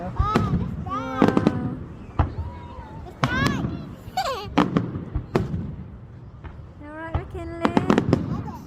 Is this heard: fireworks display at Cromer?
yes